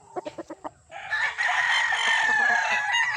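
A black-spurred 5K Sweater gamefowl bull stag gives several quick clucks, then a long, loud crow at close range with no one speaking.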